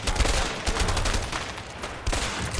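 Rapid gunfire in the video game A Way Out: dense, loud bursts of automatic shots, like a machine gun, run almost without pause for the whole stretch, alone with no talk.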